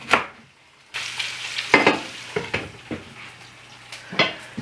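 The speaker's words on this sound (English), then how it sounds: "When your bacon sounds a lot quieter, it's starting to get crispy." Bacon frying in a pan in a home kitchen, a soft steady sizzle under a series of sharp clatters and scrapes of utensils against cookware, with a low hum in the background.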